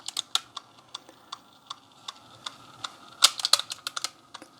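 Sharp, small plastic clicks and ticks come from the cassette mechanism of a Sony WM-EX570 Walkman running without a tape. They arrive at an irregular pace and cluster more densely near the end, close and crisp in a quiet room.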